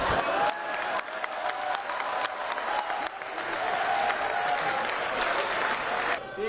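Party leaders at Rahul's press conference clap in a dense, continuous burst of applause, a room full of hands beating steadily at moderate volume, with a few sharper individual claps standing out.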